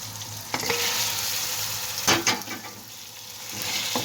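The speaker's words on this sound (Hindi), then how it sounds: "चिकन को हम अच्छी तरह भून लेंगे।" Half a kilo of chicken sizzles in a pan while being fried for a lauki chicken curry, a steady close hiss with a few scraping stirs.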